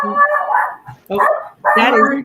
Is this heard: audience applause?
no